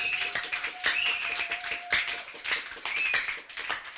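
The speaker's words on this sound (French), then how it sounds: "Acclamons très fort pour la gloire de Jésus" A church congregation claps in a quick, sharp rhythm, with many close hand claps running together into lively applause.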